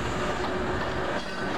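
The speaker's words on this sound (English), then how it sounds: "87016 Sir Francis Drake departs with train number 1S89, the 1735 to Glasgow Central." Electric locomotive 87016 hauling a train of Mark III coaches departs London Euston, a steady rumble of wheels and traction noise, moderately loud and continuous over a brief stretch.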